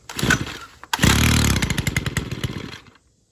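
A Stihl FS111 two-stroke string trimmer sputters to life after a pull of the starter cord, then runs briefly at a loud, uneven idle before cutting out at about three seconds.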